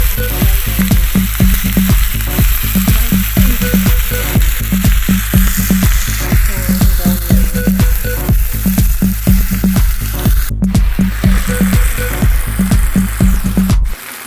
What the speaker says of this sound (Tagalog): Now let's fry the garlic with sesame oil.